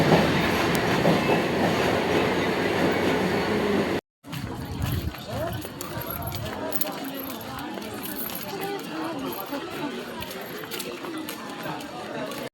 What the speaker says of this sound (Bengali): ফাইনালি ট্রেন জার্নি শুরু হয়ে গেল